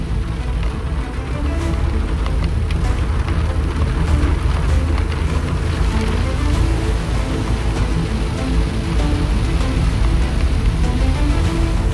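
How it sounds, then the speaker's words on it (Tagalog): Steady heavy rain drums on a Suzuki DA64W minivan while it drives a Visayas road near Bitugang Manok. Broadband wash and low road rumble run unbroken and loud the whole way through, with no talking. "Grabe, lakas ng ulan dito."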